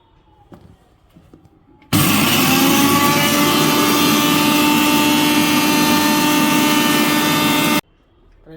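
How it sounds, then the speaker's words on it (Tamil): A kitchen mixer grinder whirs loudly in a single continuous burst of about six seconds, grinding curry leaves, with quiet handling noises before and after. "இதே மிக்சியில் இதே ஜாரில் அப்புறம் நம்ம இந்த கருவேப்பிலையை போட்டு அரைச்சிக்கலாம்"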